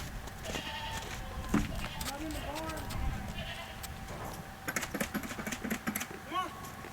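Goats bleating on a goat farm, several short calls scattered through the clip, mid-distance, mixed with a person talking and calling to the animals.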